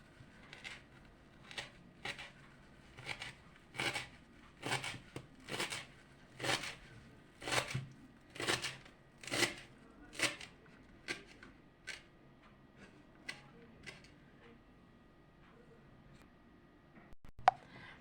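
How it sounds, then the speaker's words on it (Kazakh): Fresh dill being finely chopped with a knife on a cutting board, a steady run of crisp, quiet taps that quicken and then thin out toward the end, close and alone. "Енді укробымызды да дәл сондай қылып ұсақтап тураймыз."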